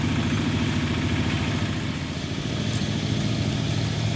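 A tractor engine idles steadily at a temple, a constant low rumbling chug with a slight clatter, close and unbroken, with no voices over it.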